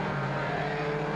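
Race cars of the DTNH and GT categories passing on the circuit, a brief steady engine roar at moderate distance, continuous and without talk.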